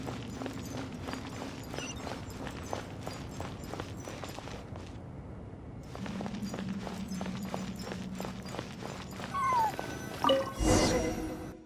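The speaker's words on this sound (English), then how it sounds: "And so I followed the cat's cries to find my way out." In the video game Genshin Impact, a cat gives faint meows amid steady rhythmic footsteps and ambient hum, with a brief quiet gap midway and a louder burst near the end.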